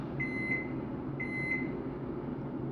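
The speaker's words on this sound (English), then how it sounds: "God, fucking microwave." A microwave oven gives two short, clear electronic beeps about a second apart, close and alone over a low background hum.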